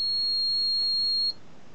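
A multimeter's continuity beeper sounds while transistors on a Patriot battery charger board are probed for a short circuit. It gives one steady, piercing high tone for just over a second, then cuts off to quiet.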